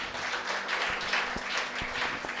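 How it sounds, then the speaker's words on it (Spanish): A church congregation applauding God, steady close crowd clapping with a few sharper individual claps standing out, continuous for a couple of seconds. "Vamos a darle un aplauso a nuestro Dios,"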